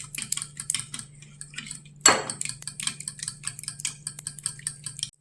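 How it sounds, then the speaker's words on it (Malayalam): A spoon beating a mixture with salt and sugar in a bowl, producing rapid rhythmic clinking against the bowl in close, crisp bursts, with one louder clatter midway and no talking. "നന്നായിട്ട് ബീറ്റ് ചെയ്യുക."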